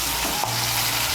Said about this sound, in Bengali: খুব বেশি ভাজবো না, হালকা করে একটু ভেজে নেব